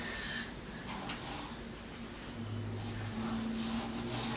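Hands working dry spice rub into a small rack of baby back ribs, a continuous close, soft rubbing and scraping that stays even throughout with no talking.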